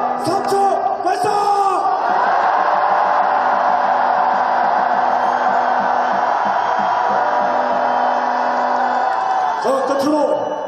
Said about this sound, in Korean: 전방 함성 3초 발사!